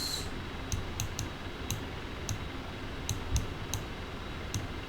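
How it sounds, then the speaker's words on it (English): Several sharp, light clicks spaced irregularly over a quiet background hum, like single keys being pressed on a keyboard. "let's hit M on the keyboard to pull up our"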